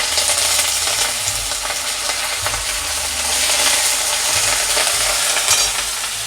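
Ginger paste and curry leaves sizzle steadily in hot oil in a frying pan, a dense, bright crackle close by, with occasional stirring scrapes and no talking.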